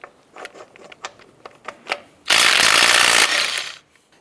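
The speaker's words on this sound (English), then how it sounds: "Using a 19 millimeter socket, we're going to go ahead and remove the lug nuts." A ratchet with a 19 mm socket works the lug nuts off a 2004-2012 Chevy Colorado wheel, with a run of sharp close clicks followed by a loud, steady burst of about a second and a half, then the sound fades.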